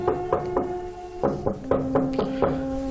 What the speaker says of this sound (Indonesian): mengetuk keras pintu rumah Wahyu